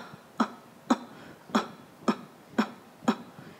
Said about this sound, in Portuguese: com leves tossidinhas